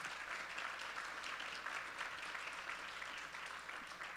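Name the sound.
audience applause for the judges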